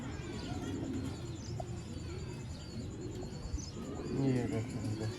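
Soft cooing of a female pigeon, a low repeated coo near the end, heard over a steady outdoor bed with brief bird chirps.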